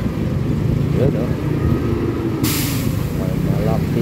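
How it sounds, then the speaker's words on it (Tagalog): A large truck rumbles past on a rainy-season road, a loud low engine drone with a brief hiss partway through, while a voice talks over it. "May malaking truck."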